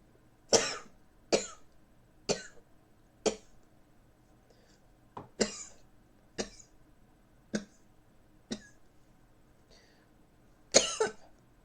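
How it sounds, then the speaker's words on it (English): A coughing fit after a vape hit, a series of about ten sharp, separate coughs spaced roughly a second apart, close and fairly loud against a quiet background, with a stronger burst near the end. "Sorry, YouTube friends who get stuck with the coughing fit."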